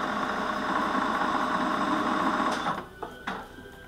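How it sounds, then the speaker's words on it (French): A milling machine takes a light cleanup pass while machining a holder for a module 2 gear cutter. A steady, close whirring hum runs for most of the clip, then stops, followed by a couple of light clicks. "Donc là je vais faire une passe pour nettoyer un peu."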